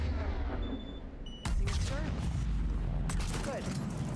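Gunfire in Mass Effect 3 during a base assault on intruders, loud bursts of shots that start sharply midway and keep going close and dense, with a brief second surge near the end over constant battle noise.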